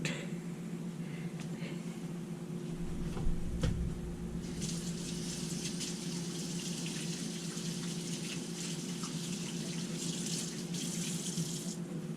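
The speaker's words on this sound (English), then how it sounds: "Let me wash my hands and then I'll roll this out." Water runs steadily from a kitchen tap as hands are washed beneath it, a continuous close rushing splash with brief bumps of handling and no talk.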